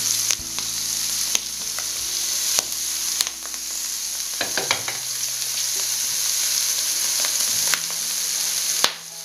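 Clam meat sizzling and frying in a heavy pan, a steady loud crackle throughout with occasional sharper pops and a few stirring scrapes, no voices.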